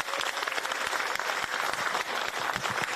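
Farmers at a Korean meeting on the grain management act give a round of applause, dense rapid clapping from a roomful of people, sustained and fairly close with no speech over it.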